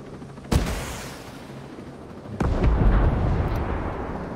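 Two loud, booming gunshots ring out in the tactical shooter Ghost Recon Breakpoint, about two seconds apart. Each blast leaves a long rumbling tail over steady background noise, with no voices.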